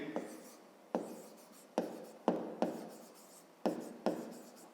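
Handwriting strokes on paper while a fifth-grade maths exercise is worked out, six or seven sharp scratchy pen strokes each starting abruptly and trailing off, close and fairly quiet, with no talk over them.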